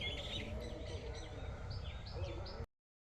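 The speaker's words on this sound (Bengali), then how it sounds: "সত্যি অনেক দিন পর এরকম নির্জন পরিবেশে পাখির কলরব শুনলাম।" Birds chirp and twitter in a quiet rural garden in winter, a busy chorus of small high calls over soft low background rumble, continuous for a few seconds before cutting to silence.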